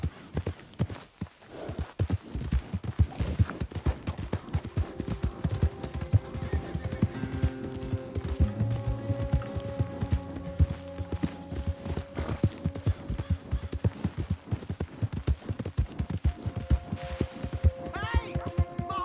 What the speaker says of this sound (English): Hey! My horse! Am I glad to see you?